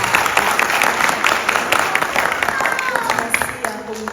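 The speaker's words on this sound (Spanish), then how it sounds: "Un aplauso para ellos." Audience applause at a Miss Haiti final gala, crisp clapping from a crowd under a voice speaking, thinning toward the end.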